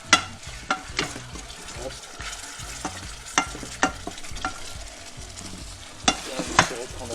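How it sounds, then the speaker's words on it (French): Vegetables and bones being stirred as they fry in a pan for a homemade poultry jus, with steady sizzling and repeated sharp scraping strokes of the utensil; a voice speaks briefly once. "On va mélanger."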